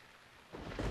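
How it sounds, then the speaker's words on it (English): Rain and thunder in the video game Tesla Effect, a quiet hiss that swells into a low rumble halfway through the short moment. "Oh, and now it's raining."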